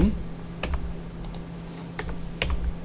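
Arrow keys on a computer keyboard are pressed one at a time, giving several sharp, separate clicks spread over a few seconds, close and crisp against a quiet steady hum.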